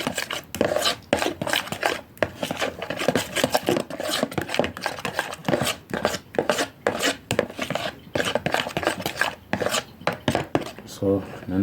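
A garlic, yogurt and lemon juice sauce being stirred in a bowl, with steady, rapid scraping and tapping strokes that continue loudly and rhythmically throughout, and no talking.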